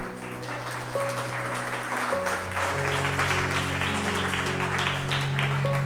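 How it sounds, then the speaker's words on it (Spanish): Church congregation applauding at a sermon service, a dense steady wash of hand claps sustained throughout, with sustained musical tones, likely organ or keyboard, playing underneath. "Yo le daría palmas al Rey"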